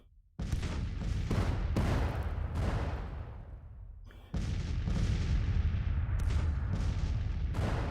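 Rifle volleys and artillery fire from the American Civil War strategy game Grand Tactician: The Civil War come as loud, dense booming bursts, one after another, with a short lull before the barrage picks up again.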